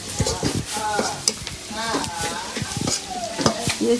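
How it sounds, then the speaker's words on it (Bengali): Dal (lentils) cooking in a pot in a home kitchen, with steady stirring and sizzling frying sounds, moderately loud and continuous, with scattered clinks and brief voices in the background. "ডাল রান্না করতেছে আম্মু।"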